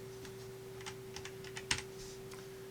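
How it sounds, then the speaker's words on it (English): Keys on a computer keyboard click in a short, uneven burst of typing during Raspberry Pi 4 VPN server setup, faint and close over a steady low electrical hum. "going to have to type in the IP at the service port"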